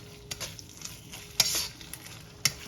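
Sloppy joe ground meat in barbecue sauce simmers and sizzles in a pan, with a steady bubbling hiss broken by a few sharp spoon clanks and stirring scrapes close by.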